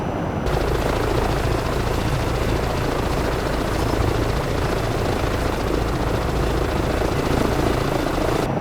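EC135 helicopter in flight within a flight simulator game, a steady loud rotor and turbine drone with dense broadband noise running continuously and alone, no voices.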